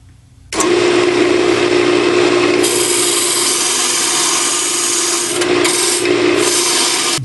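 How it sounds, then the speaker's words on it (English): A wood lathe turns a tenon on a wooden Christmas ornament. After a quiet first half second, a loud, close, steady scraping hiss of the tool cutting the spinning wood starts and continues to the end, with a hum underneath. "Now I'm going to turn a tenon over here that will fit in the jaws of my chuck."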